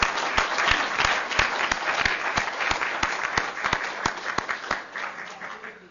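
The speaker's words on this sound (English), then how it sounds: "Can we give them another applause?" Applause from a church or community gathering after a string band and choir performance, many hands clapping steadily with sharp individual claps standing out, slowly thinning toward the end.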